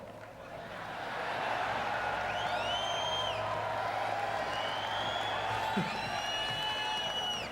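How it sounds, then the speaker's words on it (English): An audience at a 2009 Hall of Fame induction for Bob Hayes claps and cheers in a steady, moderate wash of applause that swells and holds, with scattered whoops and whistles rising above it. "Thought you might get a bigger applause"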